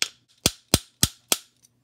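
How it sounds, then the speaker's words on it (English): Five sharp metallic taps of a small jeweler's hammer flattening a metal model-kit part, evenly spaced about a third of a second apart, crisp and close with silence between. "I've got one of these little jeweler's hammers, and you're just going to start hitting it here."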